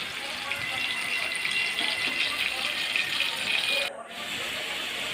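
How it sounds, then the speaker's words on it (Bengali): Water poured into a pot of braised chicken at a home stove, a steady close splashing pour running about four seconds before cutting off abruptly, with a softer background hiss afterward. "এর মধ্যে জল দেবো।"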